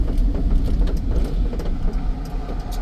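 A car rolls past on a fast highway, a broad low road rumble with tire noise that swells and stays loud over the short stretch, close by with no voices.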